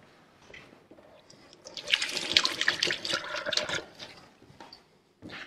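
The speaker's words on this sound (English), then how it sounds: "in between every 7 biscuits, I'll wash my hands" Hands are washed under a running kitchen tap between batches of Anzac biscuit dough, a swelling gush and splash of water lasting a few seconds before easing off, heard alone at moderate loudness.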